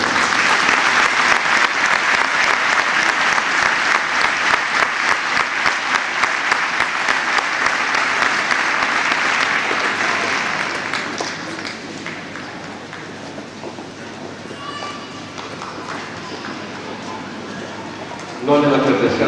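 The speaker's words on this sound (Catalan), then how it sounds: "Molta agraïts i un gran aplaudiment." Audience at a Christmas concert by a community music association applauding in a long, dense, loud burst that gradually thins out, followed by quieter room sounds and a brief voice.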